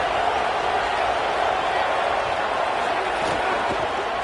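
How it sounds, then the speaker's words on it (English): A loud, hostile stadium crowd at a football game sends up a steady, dense roar, a continuous wash of noise with no breaks. "The crowd is making it hard, though. I can tell you it is hard to hear as they try to struggle and communicate."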